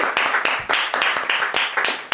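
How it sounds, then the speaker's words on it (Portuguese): Steady applause with sharp, rhythmic clapping that swells in repeated bursts, fairly loud and close, with no talking over it. "Uma forte salva de palmas."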